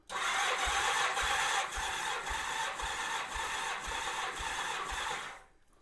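A 1987 Honda GL1200 Goldwing engine cranks on the starter with the throttle held wide open during a compression test, a loud, steady whirring drone with even rhythmic pulses of compression strokes for about five seconds before stopping.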